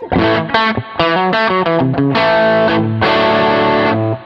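A clean electric guitar through a Fender Deluxe Reverb tube amp plays chords and single notes with a warm, slightly distorted tone and a lush reverb tail, loud and up close.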